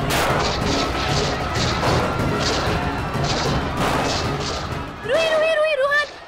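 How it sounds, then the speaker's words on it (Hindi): Gunfire sound effect of loud, rapid bursts of shots repeating in a regular pattern, followed near the end by a voice speaking briefly. "ये अचानक गोलियों की आवाज कैसे आ गई?"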